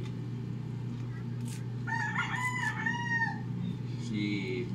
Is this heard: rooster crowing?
yes